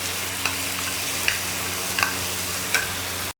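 Spiced yogurt mixture hitting hot frying spices for rogan josh, a steady broadband sizzle with a low hum beneath and a few soft stirring clinks spaced about a second apart, ending abruptly.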